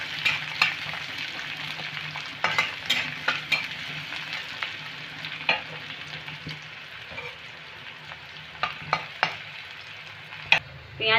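Chopped onion sizzles steadily in hot oil with whole garam masala while a spatula stirs it, sharp scraping clicks recurring over a continuous crackling hiss; no voices.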